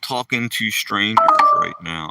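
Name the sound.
phone low battery alert sound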